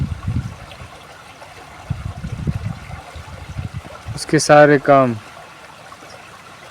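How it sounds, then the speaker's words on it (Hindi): Flowing water running along a stream or channel, with a soft rushing trickle throughout and a voice briefly talking over it. "जैसे ये पानी जा रहा है"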